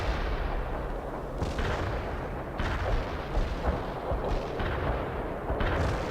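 Rocket launchers fire in World in Conflict, a real-time strategy game, as a dense rumble of heavy booms and blasts that repeat every second or so, with no talk.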